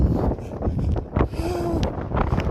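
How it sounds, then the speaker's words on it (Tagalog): Heavy snowstorm wind in Ilulissat, Greenland roars and buffets the microphone continuously, with gusty rushing noise throughout and no talking. "Even kahit snowstorm, malakas yung hangin."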